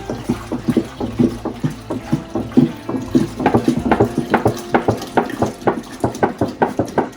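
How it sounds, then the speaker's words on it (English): Milk poured from a container into a cooking pot on the stove for making feta cheese, a steady glugging stream with rhythmic gulping pulses, close and fairly loud with no talking. "we're going to pour this milk in there"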